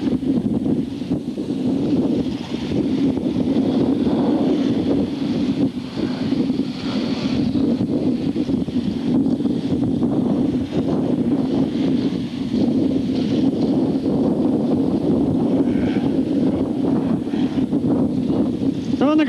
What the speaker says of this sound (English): It's so windy I can hardly hear myself squeak.